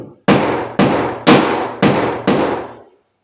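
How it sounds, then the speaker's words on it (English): Five sharp, loud hammer blows drive plastic wall anchors into drilled holes for a towel bar, evenly spaced about half a second apart, each ringing out briefly, with no talking. "You may have to take a hammer."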